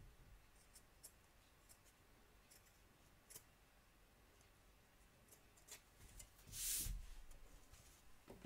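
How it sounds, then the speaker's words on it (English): Scissors trim fabric close to machine-embroidery stitches on a large Surfing Santa appliqué project, making faint, scattered snips and ticks in a quiet room, with one slightly fuller cut near the end. "We're just going to trim up along the raw edge here, ready for our next join. So cut close to the stitches without cutting them."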